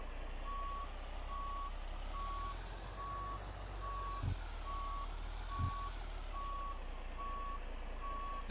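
Truck reversing alarm in American Truck Simulator while backing into a loading dock, a regular series of faint, evenly spaced beeps over a low idling engine hum, with two soft thumps near the end.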